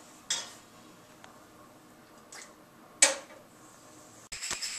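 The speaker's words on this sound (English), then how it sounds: "Let me just put it in the boiling water." An egg goes into a pot of boiling water in a kitchen, with a few faint clinks and knocks against the pot and a soft splash, then a brief bubbling clatter at the end.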